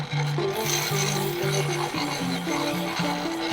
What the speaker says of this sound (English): I'm going to hit this with 600 grit, just real gently